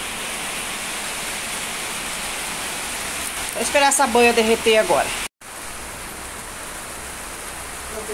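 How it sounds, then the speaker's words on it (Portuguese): Heavy rain falling in Sinop, Brazil, a steady broadband hiss throughout, with someone speaking over it midway as fat heats for frying. "esse barulho, gente, é uma chuva que tá aqui em Sinop agora"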